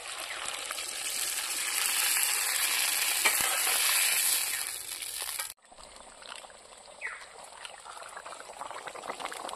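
Jungle-style mutton curry bubbling in a pot outdoors after water is poured in, a loud dense boiling hiss that cuts off abruptly midway and resumes as a quieter, softer simmer with occasional pops.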